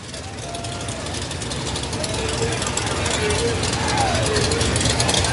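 At Victory Lane after a USRA stock car race, a stock car engine idles with a steady, rough low rumble that slowly gets louder, while a voice talks over it.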